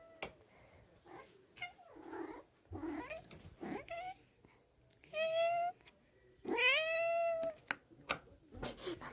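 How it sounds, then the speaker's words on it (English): A pet cat meows twice, each meow a drawn-out, clear cry near the microphone, following a stretch of scattered voices and household noise. "When you guys hear my cat."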